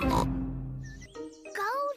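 Peppa, the cartoon pig, gives short nasal oinks in a children's cartoon dubbed into Estonian, with a voice speaking around them.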